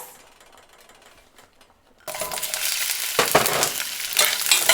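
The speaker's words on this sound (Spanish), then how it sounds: "Aquí está la cacerola caliente. Vamos a ponerle la cebolla." Onion dropped into a hot saucepan before stewing beans: near silence, then a sudden loud burst of sizzling that holds steady and intensifies, with a few clattering stirs.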